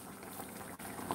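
Stewed potatoes simmer in a pot with a steady, continuous bubbling that holds at an even level from start to finish, with no voices.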